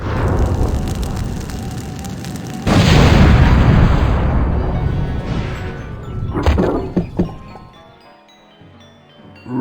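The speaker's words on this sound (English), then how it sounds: "I'm sure us blowing up a rubber tree won't come back to bite us in the end." A rubber tree is blown up in a video game, with a loud boom followed by a long crackling, rumbling roar that fades, a few sharp cracks, then silence.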